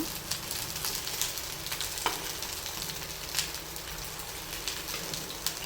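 Fish fries in oil in a pan, a fairly quiet, continuous sizzle with scattered pops and spatters throughout, no voices.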